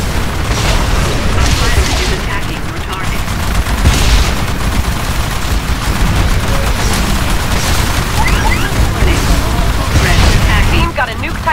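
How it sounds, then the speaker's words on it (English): Rapid cluster-munition blasts from a Titan's quad rocket in Titanfall's Frontier Defense on the Overlook map, a dense continuous barrage of booms and crackling pops with game voice callouts mixed in. "Your quad rocket will now fire cluster munitions."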